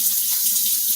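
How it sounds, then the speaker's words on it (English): Water runs steadily from a kitchen or bathroom tap during handwashing. The hiss is close and continuous, with no talk over it. "I'm going to wash my hands."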